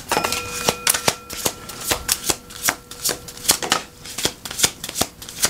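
Tarot cards shuffled by hand in a quick, continuous riffle of crisp papery flicks and taps, close and fairly loud with no talking.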